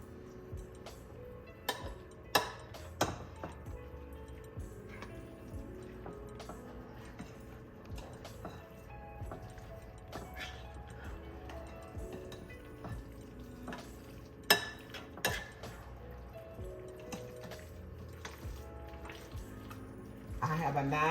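A chicken, broccoli and cheddar casserole mixture is stirred with a utensil, with scraping and occasional sharp clinks against the bowl over a steady background, under light talk.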